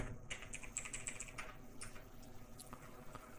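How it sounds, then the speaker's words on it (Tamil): An address is typed on a computer keyboard: quiet, irregular key clicks in close succession, nearby and unaccompanied by talk. "வீட்டு நம்பர் டைப் பண்ணுறீங்க."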